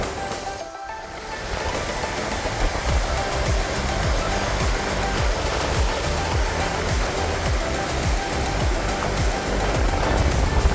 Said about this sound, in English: the 7 Sacred Pools come down from the waterfall area all the way to the ocean